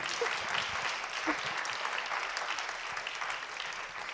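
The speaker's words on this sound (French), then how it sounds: "Vous pouvez l'applaudir si vous souhaitez." Audience at a French comics talk applauds a guest author, a steady dense clapping that fills the room throughout, with no speech on top.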